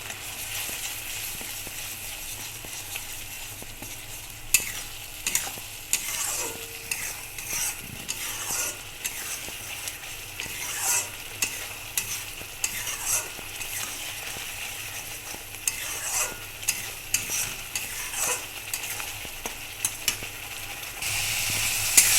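Whole spices and turmeric sizzle and fry in a pan while a spatula stirs and scrapes through them for a Bengali aloo-begun dish, a steady crackle broken by repeated scraping strokes, close and moderately loud with no talk.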